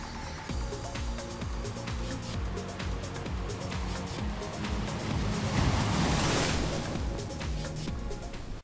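Atlantic Ocean surf rolls in below sheer Sintra cliffs nearly 100 meters high, a continuous wash of waves that swells into a louder surge midway before easing back.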